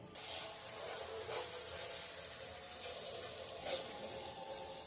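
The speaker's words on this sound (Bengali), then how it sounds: "এবার চালটা ধুয়ে নেবো।" Rice is rinsed under running tap water in a home kitchen before cooking. A steady hissing splash of water continues throughout, with a few brief louder sloshes.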